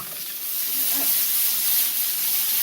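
Green beans sautéing in a hot pan in a home kitchen, giving a steady close sizzle and hiss throughout, with faint voices beneath it.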